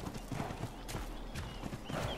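Horse hooves clip-clop in a steady rhythm with a brief neigh, from a mount in ARK: Survival Ascended on the Aberration map, close and fairly loud with constant game ambience beneath.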